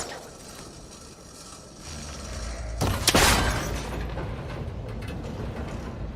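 A cable connector breaking when shot in Horizon Forbidden West: a sudden sharp crack and shattering burst with mechanical clatter, rising out of a quiet ambient bed and trailing off into a low rumble.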